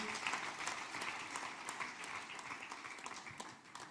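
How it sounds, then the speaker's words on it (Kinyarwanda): A church congregation applauds steadily for about four seconds, a dense, even wash of clapping hands filling the room with no break. "Bakomera amashyi"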